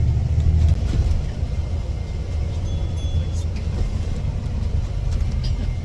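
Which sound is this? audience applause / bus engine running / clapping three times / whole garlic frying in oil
bus engine running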